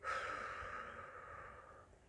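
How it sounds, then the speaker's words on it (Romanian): A single slow exhale through the mouth during a calming breathing exercise, soft and close, fading gradually over about two seconds. "Expir lent pe gură."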